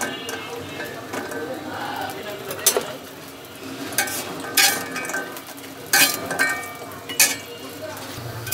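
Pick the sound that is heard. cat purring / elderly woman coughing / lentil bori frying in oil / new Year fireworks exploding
lentil bori frying in oil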